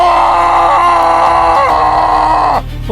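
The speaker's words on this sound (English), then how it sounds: "What is this, a scream?" A drawn-out, loud, close scream from an audio drama about a cursed ship on a comet night holds steady for over two seconds before it breaks off into a lower, rough tail.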